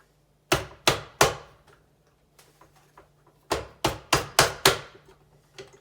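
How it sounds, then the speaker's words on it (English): Sharp knocks from banging on a loose part of an electric fan motor to free it, a quick burst of three hits, a pause with faint taps, then a run of five loud blows, close and without talk. "you just bang on it one side, typically which side looks the most loose"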